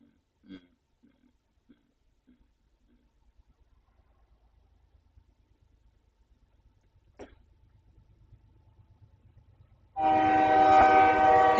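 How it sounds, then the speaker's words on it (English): A train passes behind a streamer's room. Faint rumbling builds slowly, then a loud, sustained horn blast cuts in near the end. Scattered soft knocks come before it. "Ignore the train in the background, by the way."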